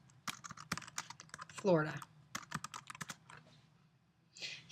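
Clicky keystrokes on a computer keyboard tapping out a search query, irregular bursts of close, crisp key presses with a few words spoken over them.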